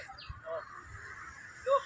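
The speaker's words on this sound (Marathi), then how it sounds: "वेगवेगळे पक्षी किलबिलाट करत आहेत." Assorted birds chirp faintly in Lalbagh garden, a few short, scattered calls over a low background hum.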